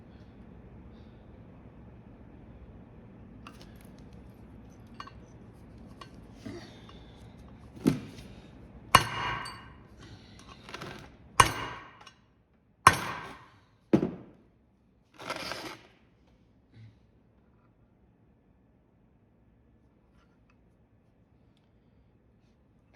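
Metal hammering on a cabover truck part during an interior teardown gives a series of sharp, irregular clanking strikes that build in loudness and then taper off, heard alone over a quiet room background.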